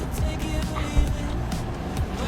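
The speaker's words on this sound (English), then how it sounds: "This car's coming." A car passing nearby at an outdoor rally in the Ozarks, a soft steady engine and road noise heard briefly and moderately close.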